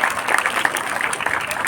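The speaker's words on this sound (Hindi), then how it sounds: "जोरदार तालियां इनके लिए" Enthusiastic applause from a crowd at a school Independence Day ceremony as scouts and guides receive certificates, dense clapping that runs steadily throughout.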